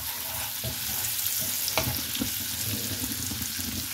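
Stuffed green chilies, dried round red chilies and leftover masala fry in a pan for achari dal, giving a steady close sizzle broken by several spatula scrapes and stirring clatters, with no talking.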